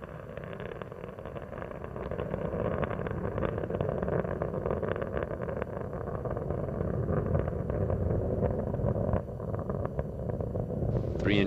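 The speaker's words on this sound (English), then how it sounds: "Three engines on Endeavour are now throttling back to two-thirds throttle" Space Shuttle Endeavour's three main engines roar through launch and early ascent as a continuous, loud, low rumbling, under an announcer's commentary.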